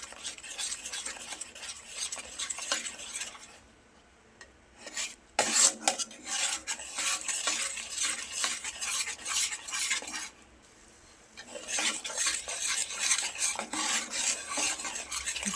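Flour roasting in a pan for sukhdi is stirred with continuous scraping and rasping strokes, broken by two short pauses, close and clear with no talk.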